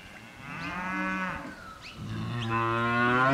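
Angus weaner heifers bellow at a cattle sale, two or three long, loud, close moos, one after another.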